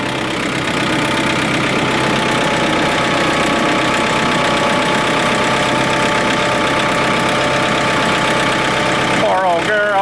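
A John Deere 2032R compact tractor idles after a winter cold start, its engine running loud and close with a steady, slightly knocking drone that holds throughout.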